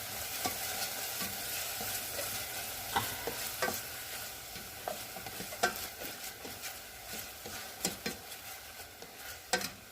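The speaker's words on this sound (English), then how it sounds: "So we're going to stir fry all this." Stuffing filling for Italian stuffed shells, onion included, stir-fried in a pan: a steady close sizzle runs throughout, broken by frequent sharp scrapes and clicks as a utensil stirs the food, with no talking.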